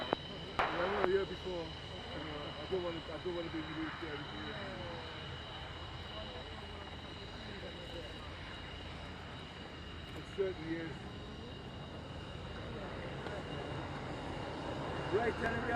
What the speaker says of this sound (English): So you see the Polish MiG-29 going up for another practice display